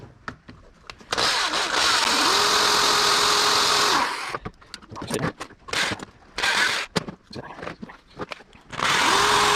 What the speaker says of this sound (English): I should have just drilled through this hole that I already had